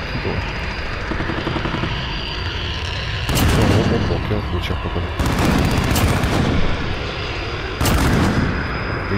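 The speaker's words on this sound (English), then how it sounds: "One more kill from the chopper gun." Chopper gun fire in Call of Duty Modern Warfare during a Hardcore Domination match: bursts of heavy automatic fire over a droning helicopter, three long volleys separated by quieter rumbling, with a player talking at times.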